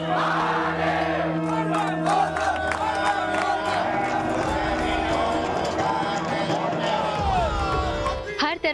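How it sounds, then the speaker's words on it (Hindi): Large crowd of Shiva devotees at a temple, chanting together in a dense, loud roar of voices with rhythmic shouts and clatter throughout. "तरफ हर हर महादेव की जयकार।"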